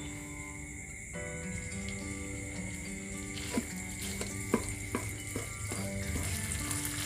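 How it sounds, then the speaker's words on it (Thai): Thai red curry paste stir-frying in oil over medium heat for a spicy squid and long bean dish, a steady close sizzle with occasional sharp scrapes and clicks of stirring, no talking. "เราก็รวนตัวพริกแกงกับตัวน้ำมันที่เราใส่ไป ให้ ให้พริกแกงเหลืองหอมเลยนะครับ"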